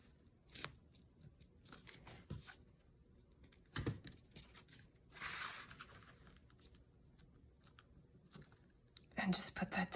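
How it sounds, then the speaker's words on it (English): Scissors snip excess acetate off a scrapbook page, a few short, sharp cuts scattered among quiet handling rustles and paper crinkling, close and fairly soft. "I've actually got a little bit of acetate sticking out, so I'm gonna trim that off first."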